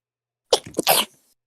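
One person sneezes once, a sharp close burst that fades quickly, with silence before and after.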